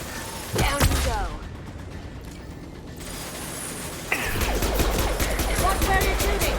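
Bursts of weapon fire and mechanical clatter in a Mass Effect 2 combat mission, loud shots at the start, a quieter lull, then renewed rapid firing with dialogue voices mixed in.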